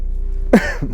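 A single short, sharp cough breaks a quiet background, close to the listener, followed by a faint breathy catch.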